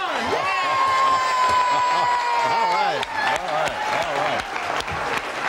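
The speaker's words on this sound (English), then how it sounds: "let's have a nice round of applause for your stars tonight, John Crean and Barbara Venezia" Studio audience clapping and cheering for the show's stars, loud and close, with a sustained whoop at first and a voice speaking over the applause later.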